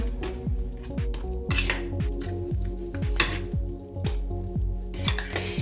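Savory muffin batter with ham and cheese being mixed in a bowl: a run of rhythmic, evenly spaced scraping strokes with a faint ringing of the bowl, close up, no speech.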